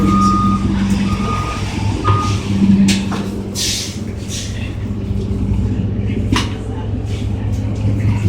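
A bus sits idling with a steady rumbling engine while faint reversing beeps repeat through the heavy drone, with some background voices.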